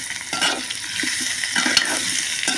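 Ginger and garlic paste frying in a pan for a meat curry, sizzling steadily while a utensil stirs and scrapes in repeated strokes, with no talking.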